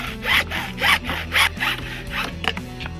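A piece being hand-sawn to fit a sink installation: quick, rhythmic back-and-forth rasping strokes, about six in three seconds, close and loud with no talking.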